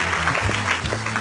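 Loud, steady applause fills a short stretch at a lively indoor gathering, with a low musical hum beneath and a brief voice rising through the clapping.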